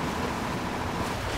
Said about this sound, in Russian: Так, теперь заедем в воду.